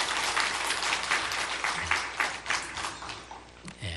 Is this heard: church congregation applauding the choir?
yes